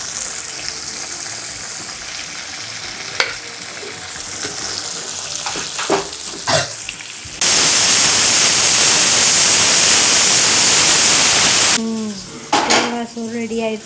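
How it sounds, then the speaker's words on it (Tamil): Seer fish frying in a pan with a loud, steady sizzle lasting a few seconds, surrounded by clinking of pots, pans and utensils in a home kitchen. "இந்த பக்கம் வந்து மீன் ஃபிஷ் ஃப்ரை ஆகிட்டுருக்கு"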